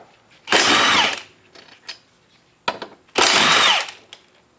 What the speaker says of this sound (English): Starting by taking these 16mm bolts off the transmission mount